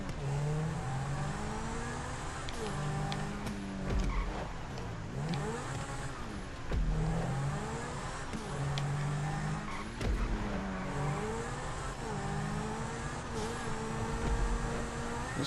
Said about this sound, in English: This is the first time I've raced this car with the new spoiler on the back.